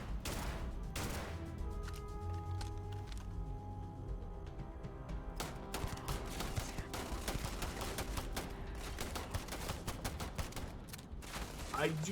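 Rifle gunfire in the video game Starfield, with rapid bursts of shots crackling over a steady bed of game ambience and music, close and dense throughout.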